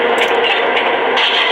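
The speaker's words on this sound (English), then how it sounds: "when you fire the front coupler, that sound effect comes from the front of the engine" Front coupler sound effect from a Lionel Vision Line GG1 model train, a steady loud scraping, hissing burst with crackly texture running throughout, heard close with no talking.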